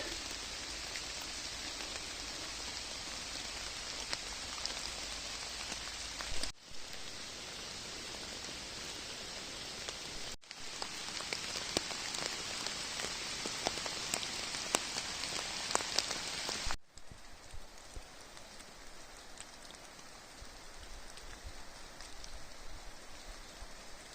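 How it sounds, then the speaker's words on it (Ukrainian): Steady rain pours down in a Carpathian forest, a dense even patter on surfaces that fills the whole stretch, with a few brief breaks and no voices. "Сьогоднішній дощ просто можна сказати безцінний"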